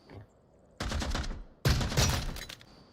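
Gunfire in the VR shooter Onward, two loud close bursts of shots, each a short cluster of cracks after a quiet start.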